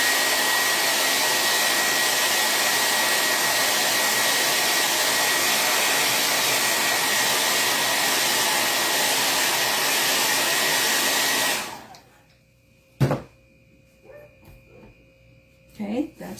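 Hair dryer blowing on a Life Is A Bowl Of Cherries craft transfer, a loud steady whir lasting about twelve seconds before cutting off, followed by a click, faint voices and a dog whimpering.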